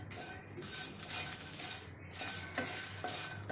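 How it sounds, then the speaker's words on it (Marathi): Kashmiri chillies roast in a hot pan for garlic chutney, stirred with a utensil that scrapes and rasps in steady repeated strokes over a soft sizzle, close and moderately quiet. "त्याच्यामध्ये मी काश्मीरी मिरच्या घालून थोडं आपल्याला भाजून घ्यायचे आहेत."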